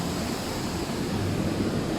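River rapids rush beneath a footbridge in the White Mountains of New Hampshire, a steady broadband roar of churning water, loud and continuous with some wind buffeting and no voices.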